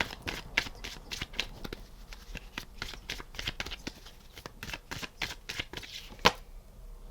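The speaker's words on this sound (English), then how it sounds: "Think of your person while I shuffle." Tarot cards being shuffled by hand, a series of quick riffling snaps and soft flicks at close range, fairly quiet and irregular.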